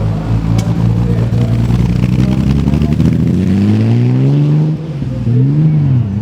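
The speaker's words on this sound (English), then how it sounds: "with the Aston Martin DB4 SS" Aston Martin DB4 SS engine driving in a parade at the Concorso d'Eleganza Villa d'Este, a loud, close, steady engine note that rises and falls with revving and shifting, alone without talk.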